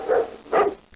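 Two loud, close dog barks spaced about half a second apart, a cartoonish sound effect in a children's PC reading game, with a short quiet tail after.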